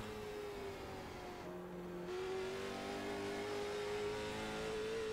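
The engine of a Late Model Stock car in the iRacing racing game holds a sustained, droning note under throttle. The pitch shifts slightly partway through, and the sound stays steady and fairly loud with no voices.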